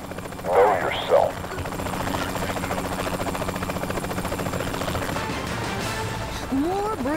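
Helicopter in Saints Row The Third Remastered: a steady rhythmic rotor chop under ongoing talk and game sounds, with a couple of sharp crashes early on.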